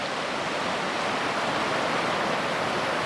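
Waterfall among snow-capped winter mountains in Glen Etive, a steady loud rushing roar of falling water with no pauses and no voices.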